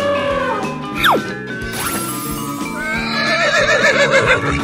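A horse neighs with a rising whinny amid clip-clop hoofbeats and bright chiming effects, the call standing out early and trailing into a shimmering wavering tail.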